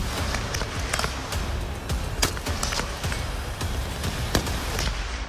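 Gunshots crack on a light infantry shooting course, several sharp irregular reports standing out over dense, steady outdoor noise.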